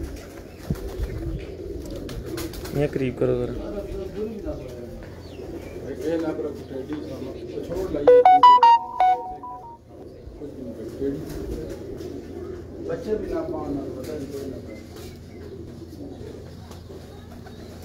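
Pigeons coo softly at a breeder's loft in Chakwal, their low calls running under people talking, with a brief flutter of wings partway through.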